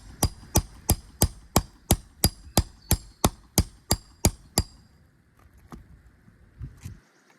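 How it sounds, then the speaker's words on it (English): A nail puller is hammered under a roofing nail partway up a shingle: about a dozen sharp, evenly spaced metallic strikes ring out close by, then fade into faint scraping and knocking. "Find the nail, get the nail puller to it."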